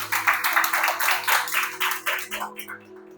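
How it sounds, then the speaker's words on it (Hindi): A church congregation at a Sunday worship service claps loudly in a steady run of rhythmic claps, with a sustained tone underneath, before the clapping stops near the end. "आइए परमेश्वर को एक जोरदार ताली।"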